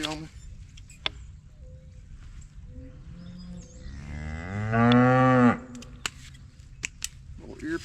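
A cow moos once in a long, loud, close bellow near a calf being ear-tagged on a muddy farm, with scattered clicks and faint low voices before and after.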